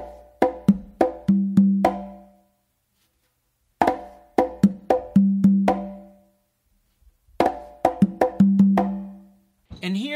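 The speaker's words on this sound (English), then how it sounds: "what you're going to do is another close slap with your left hand" Congas in a bomba rhythm with an accented left-hand close slap: three bursts of sharp, quick hand strikes and ringing tones, close and dry, separated by short pauses.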